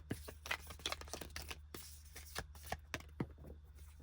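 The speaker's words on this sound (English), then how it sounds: "One more shuffle and then we'll get into it." Tarot cards are shuffled in a series of quick, crisp riffles and flicks, close and fairly quiet, with no one speaking.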